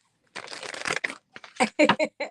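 Tarot cards shuffled by hand: a sustained papery riffle, then several shorter, sharper shuffling bursts close to the listener, with no talking.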